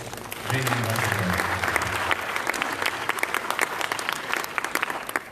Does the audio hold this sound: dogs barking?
no